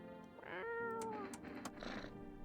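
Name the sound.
cat meowing in video game No, I'm Not Human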